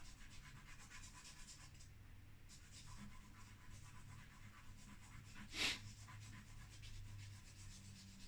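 Charcoal scratches across paper in soft, faint strokes as a cat's fur is drawn in a portrait, with one brief sharper scrape partway through. Nobody speaks.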